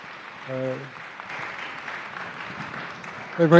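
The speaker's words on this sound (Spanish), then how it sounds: "Un aplauso, por favor, al maestro." Audience applause greeting a lecturer at a talk on Japanese tea history and culture, steady broadband clapping filling the room, with brief speech at the start and end.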